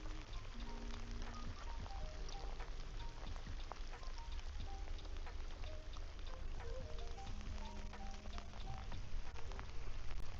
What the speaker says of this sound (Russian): А дождь такой шарашит.